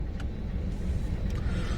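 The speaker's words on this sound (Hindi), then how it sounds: "ज्यादा भयानक ट्रैफिक है यहाँ पे" Heavy road traffic in light rain, a low continuous rumble of passing vehicles with a soft hiss and a couple of faint brief higher clicks, moderately distant and fairly quiet, no talking.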